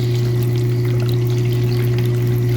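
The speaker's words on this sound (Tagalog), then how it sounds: "Tsaka natin lalagyan ng tubig." Water pours into the tank of a budget air cooler, a continuous close splashing stream over a strong steady electrical hum, with no speech.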